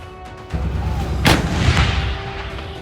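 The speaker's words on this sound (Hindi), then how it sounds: "155 mm और 52 कैलिबर की सेल्फ प्रोपेल्ड आर्टिलरी गन से 18 से 54 किलोमीटर तक अचूक निशाना लगाया जा सकता है" A K9 Vajra 155 mm, 52-calibre self-propelled artillery gun of the Indian Army fires one loud, sharp blast that rolls into a long, booming rumble, heard alone without voices.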